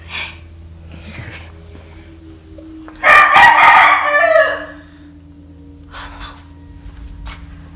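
A rooster crows loudly and close for about a second and a half, rising out of a quiet outdoor background with faint breathy noises and a few distant calls.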